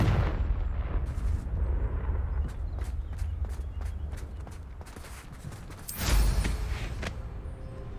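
Confringo explosive spell cast in the Hogwarts Legacy video game on PC: a rapid string of sharp blasts and crackling impacts over a low rumbling bed, ending in a louder burst near the end.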